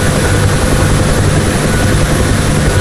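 A UH-1 Huey helicopter in DCS World hovers, with a loud, close, continuous turbine roar and steady low rotor thrum that stay constant throughout.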